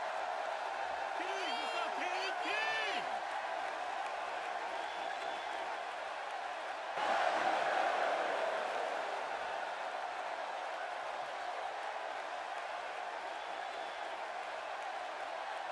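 Capacity arena crowd in the WWE 2K16 wrestling game roars with steady, moderately distant cheering and applause, a continuous wash that swells slightly around the middle, with a short whistle or whoop early on.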